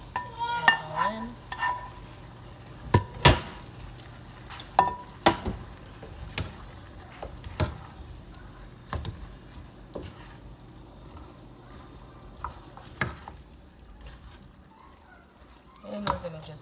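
Egg and vegetables for chicken fried rice sizzling quietly in a pan while a utensil scrapes and clacks against it in sharp, irregular strokes, with brief talk at the start.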